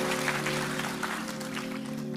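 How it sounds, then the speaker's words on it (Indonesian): A church congregation claps, producing a brief burst of scattered hand-clapping over a steady tonal hum, fairly faint and heard alone without talk. "Bangkit berdiri, tepuk tangan yang keras buat Tuhan."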